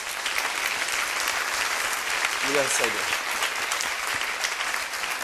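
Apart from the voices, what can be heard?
audience applause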